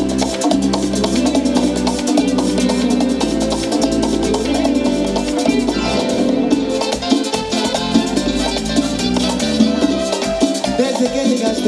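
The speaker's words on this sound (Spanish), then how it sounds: "le traen este merengue que suena así" A live dance orchestra plays a merengue at a village festival show in Aríns, Santiago de Compostela, with driving percussion, bass and brass filling the sound loudly and continuously.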